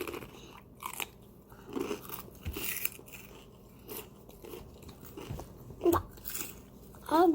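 Someone crunching spicy jalapeño-flavoured Takis rolled chips with cream cheese, irregular close bites and chewing crackles spread across the clip over a busy room background, with a few sharper crunches near the end.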